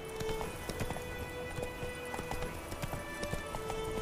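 Rapid rhythmic hoofbeats of a galloping horse in The Witcher 3: Wild Hunt, steady and close, with a faint musical tone and ambient game sounds underneath.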